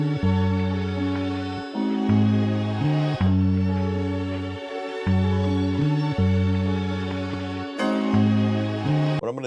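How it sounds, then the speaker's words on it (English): A music sample slowed down in resample mode plays with lowered, deeper pitch: repeating sustained low chords in a loping rhythm with short gaps, dense and loud, without any talking. "when you slow down the sample, the pitch also slows down"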